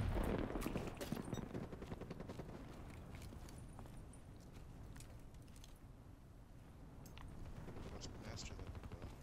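A gun fires with heavy recoil in a video game, rapid shots running through the clip as dense crackling bursts under continuous chatter and game noise, moderately loud.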